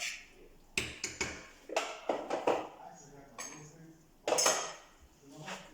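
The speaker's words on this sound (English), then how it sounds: "mix it, we stir it" A utensil clinks and scrapes against a pan in irregular bursts as a tin fish lasagne mixture is stirred, close and moderately loud, with a person speaking between the knocks.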